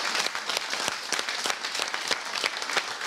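Studio audience applauding loudly during a visit at a Stoptober event house, steady dense clapping with sharp individual claps standing out, close and filling the whole moment.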